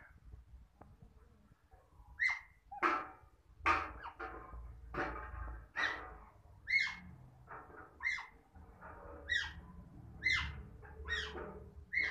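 An otter gives a series of sharp, repeated dog-like barking yelps, roughly one every second, fairly loud against a quiet background.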